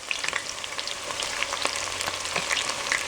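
Steady oil sizzle from chili frying in a pan for chicken curry, with light scraping and stirring clicks scattered throughout.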